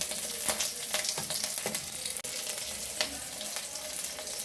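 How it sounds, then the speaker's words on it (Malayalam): Green chilies fry in hot oil with mustard seeds and curry leaves, making a continuous close sizzle dotted with frequent sharp pops and crackles, plus the occasional scrape of stirring. "ഇതിനോടെ പച്ചമുളക് ഇട്ട് കൊടുക്കാം."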